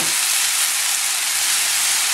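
Ground pork fries in a pan for menudo-flavored croquettes, giving a steady, loud broadband sizzle that holds evenly close up with no voices.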